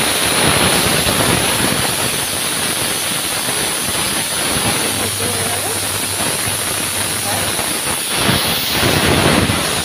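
A pressure cooker whistles with a steady, loud hiss of escaping steam while peas boil for ghugni in a home kitchen, running continuously throughout with little change.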